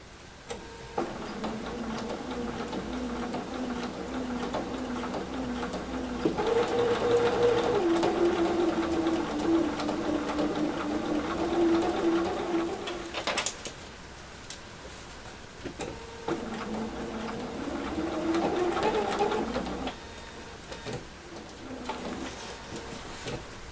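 Sewing machine stitching a military mess dress shirt, running in two long steady bursts with a brief pause between, whirring motor under a rhythmic needle patter, close and moderately loud.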